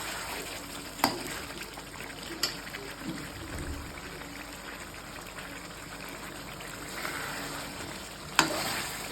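Potatoes frying in a pan for Kashmiri alur dom, a soft steady sizzle with a few sharp clinks of a utensil against the pan, fairly quiet and without talk.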